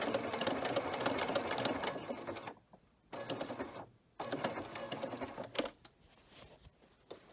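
Sewing machine stitching cording under a cording foot, running in steady loud bursts with two short pauses between runs, then fainter intermittent stitching toward the end; no voices.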